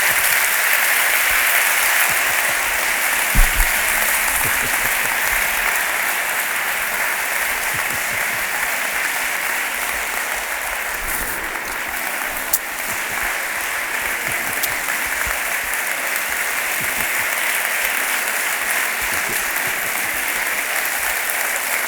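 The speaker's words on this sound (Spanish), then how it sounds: "Un aplauso." Sustained applause from an audience at a literary conversation event, steady and dense for the full length with no voices over it.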